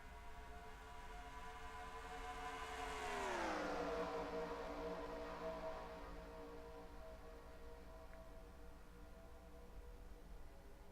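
A pack of ARCA stock cars in NASCAR Racing 2003 at Pensacola at the green flag, engines droning together with one rising roar that swells and sweeps past before settling into a steady hum.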